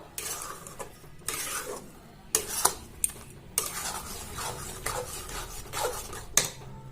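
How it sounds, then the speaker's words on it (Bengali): Semolina being stirred with peanuts in a pan for spicy jhal suji, with a spoon scraping and clinking against the metal in repeated bursts over a faint sizzle. "এবার আমি এর মধ্যে দিয়ে দেব বাদামগুলো দিয়ে আবারও ভালো করে নাড়াচাড়া করে নেব"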